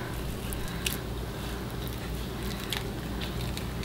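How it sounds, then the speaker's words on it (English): A spoon scoops soft cooked butternut squash flesh out of the skin, producing wet squishy scraping and faint clicks at close range, steady and quiet. "At this point, I'm just gonna scoop out my squash"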